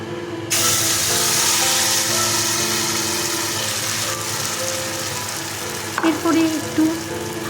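Marinated radish frying in a little white oil in a wok, a loud, dense hiss of sizzling that starts abruptly and holds steady, with brief scraping stirs near the end, no talking.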